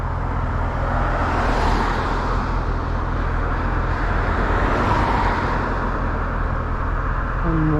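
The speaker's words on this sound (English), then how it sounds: "wait till this traffic goes." Road traffic rolls past on a residential street, a steady, fairly loud roar of car tires and engines that swells gently and fades without a break, with no talking.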